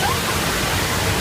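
A loud, dense roar of rushing water fills the Earthquake ride at Universal Studios as the simulated quake sends a flooding waterfall pouring down, steady and close.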